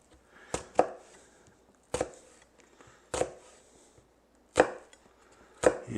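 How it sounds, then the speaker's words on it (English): A knife tip cutting down into an onion half on a cutting board, five sharp crisp chops spaced about a second apart, close and clear against near silence. "you want to cut with the tip of the knife, so not all the way through the other side, but just well deep into the onion"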